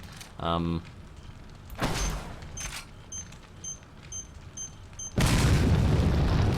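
A booming blast from the video game Resident Evil 4 erupts, followed by rumbling debris and a loud sustained roar at the end, with game sound effects mixed in between.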